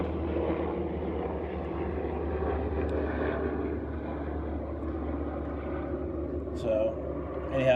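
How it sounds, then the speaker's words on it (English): A fixed-wing airplane passes overhead outside a garage, a steady low engine drone that holds throughout at moderate loudness under someone talking. "airplane flying by."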